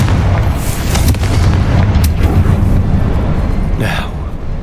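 A Confringo blasting spell goes off in the video game Hogwarts Legacy: a loud, sustained booming explosion with heavy low rumble and crackling debris, dense throughout and easing slightly at the end.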